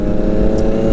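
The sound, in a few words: loud motorcycles riding in a group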